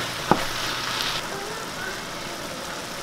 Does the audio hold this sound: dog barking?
no